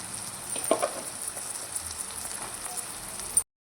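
Ridge gourd sizzles after being added to a pan of fenugreek curry, giving a steady close crackling hiss with a brief louder burst near the start and no talk.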